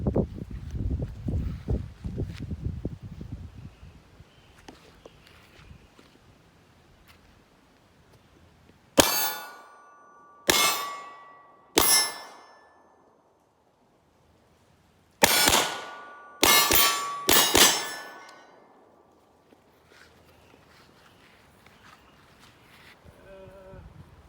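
A string of sharp metallic clangs from Hudson H9 pistol shots hitting steel targets rings out in quick bursts, some doubled, after a stretch of wind noise and a few softer knocks, outdoors.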